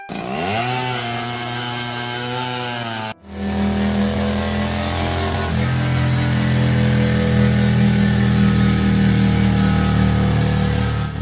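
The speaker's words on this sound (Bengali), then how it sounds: "একই বোকাবাগের ট্রাক্টর শব্দ শোনা যায়" A cartoon tractor engine roars loudly and steadily, starting with a rising whine, then a brief cutoff, then a thick, continuous mechanical drone that swells slightly and holds to the end, with no one talking.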